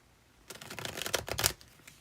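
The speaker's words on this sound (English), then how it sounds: "I'll shuffle until you decide" A deck of tarot cards is shuffled in one brisk burst of rapid riffling clicks lasting about a second, close and fairly quiet, set between stretches of near silence.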